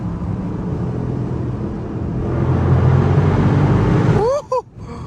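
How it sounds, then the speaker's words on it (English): A Dodge Scat Pack engine in a tunnel at night, a loud sustained exhaust roar that builds and then breaks into quick rising blips as it downshifts, echoing close by. "Hold on. We gonna make some downshifts."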